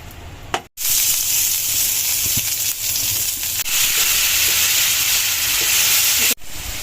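Spice masala sizzles loudly in a pan for an eggplant dish, a close, steady hiss of frying that cuts out briefly twice.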